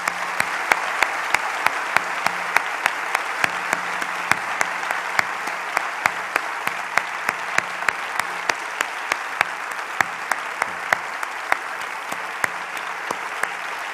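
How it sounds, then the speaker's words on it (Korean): A church congregation claps steadily for about fourteen seconds, sharp hand claps standing out over dense sustained applause with a faint hum underneath, the sound filling the sanctuary. "우리 다시 한번 하나님께 영광의 박수 올려드리겠습니다"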